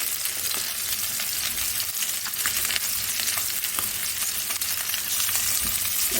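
Chopped onions frying in a pan for fried chicken, a dense, steady sizzle with frequent small crackles and occasional stirring scrapes, close and continuous with no talking.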